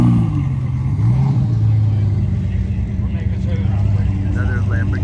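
A blue Lamborghini leaving a car show in San Clemente, its engine revving and rising in pitch nearby while a voice talks over the sound.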